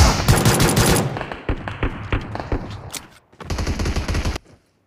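Gunfire in the video game PUBG comes in rapid bursts of automatic fire and sharp single shots, loud and close, with a short pause in the middle before a final sustained burst.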